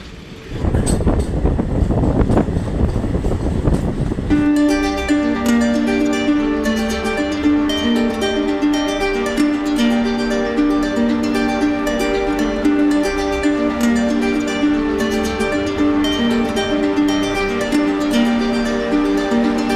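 The Asansol-Haldia superfast express runs along, starting with a noisy rushing rumble that gives way to a loud, steady, droning hum with sustained tones and rhythmic clatter, close and continuous with no talking.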